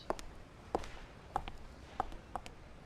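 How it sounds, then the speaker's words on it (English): Footsteps in the video game Virtue's Last Reward: five steady, evenly spaced steps at a moderate walking pace, fairly close and alone with no talking. "I heard footsteps behind me and I turned around."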